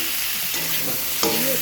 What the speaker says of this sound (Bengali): এবার আমি কেটে রাখা বেগুনগুলি এর মধ্যে দিয়ে দেবো।